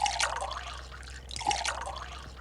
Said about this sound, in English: I guess I'll wash the dishes first so we can have something to eat on.